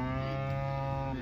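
A young cow herd of mostly Hereford cattle mooing, one long, sustained low bellow held close and loud through the whole moment, with no talking.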